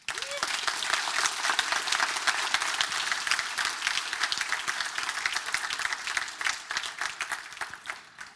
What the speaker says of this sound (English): So please give a round of applause for NetNode.